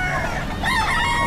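Roosters crowing and hens clucking among many chickens at the Bocaue pet market on a rainy day, a loud layered chorus of crows and squawks close by, steady throughout.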